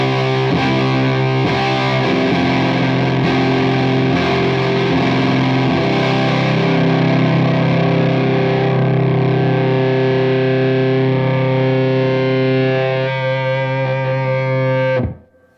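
Electric guitar through a Tortuga Effects Yeti distortion pedal with the tone turned down, a dense, soft, throaty sustained chord ringing for about fifteen seconds before cutting off abruptly.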